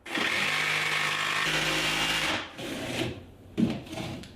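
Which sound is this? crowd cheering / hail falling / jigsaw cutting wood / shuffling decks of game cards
jigsaw cutting wood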